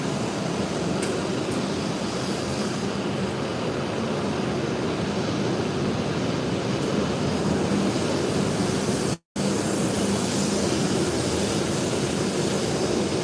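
Shinkansen bullet train pulling away from a platform at Nagano Station, bound for Kanazawa: a steady, loud broadband rush and rumble that holds evenly for about thirteen seconds, with one brief dropout near the end and no talk.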